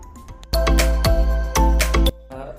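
A phone rings out loudly while a call to a hostel mess is placed, with two clear electronic ring bursts separated by a short pause.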